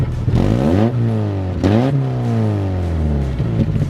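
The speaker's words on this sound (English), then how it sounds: "It's got a dirty exhaust leak, and it sounds almost like you just did like a muffler delete." A car engine revs hard in repeated rising-and-falling sweeps, loud and close, with a raw, blatty exhaust note from a dirty exhaust leak that sounds almost like a muffler delete.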